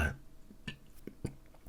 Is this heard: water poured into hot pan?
no